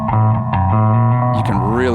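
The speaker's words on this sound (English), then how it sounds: "You can really hear that ringing metallic sound there" Synthesizer run through effects producing a ringing, metallic tone with sustained buzzy harmonics and a pitch that bends near the end, loud and close, with the sound mixing into voice-like content.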